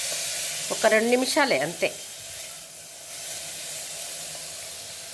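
Ingredients sizzling and frying in a pan while making batani sherwa, a steady broadband hiss that continues under a short stretch of speech and then runs alone.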